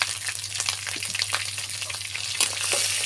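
Garlic, onion, ginger and cumin paste sizzles steadily in a hot pan of fried onions and chillies, a dense continuous crackle with small stirring bumps and a low steady hum underneath.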